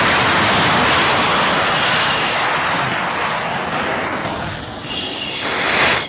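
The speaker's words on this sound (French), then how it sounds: "On poursuit le décollage. Je sens que l'avion est plus lourd qu'à l'habitude." A strategic air forces jet plane, heavier than usual, roars through its takeoff climb, a loud, dense, continuous engine rush heard from on board, steady throughout and swelling slightly near the end, with no voices.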